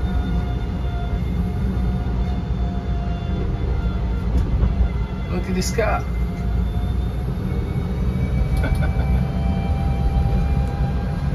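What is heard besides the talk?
Fiat Topolino microcar driving in town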